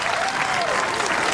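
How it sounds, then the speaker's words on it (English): Crowd applause fills a bowling hall at a plastic ball bowling championship, a dense, steady burst of clapping heard close and loud throughout. "Huge crowd here for Ziesig"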